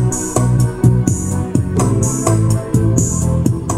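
A Roland BK-3 arranger keyboard plays a Gujarati pop rhythm pattern, with steady bass and chord stabs and bright percussion hits recurring in a looping groove, loud and close with no voices.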